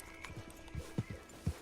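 Horse hooves clip-clop in Red Dead Redemption 2, a handful of distinct, fairly close thuds falling in an uneven walking rhythm over a quiet background.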